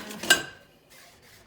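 A big metal spoon clinks against a pot or dish while scooping milk gravy over tender homemade biscuits: one sharp close clink, then soft scraping and stirring.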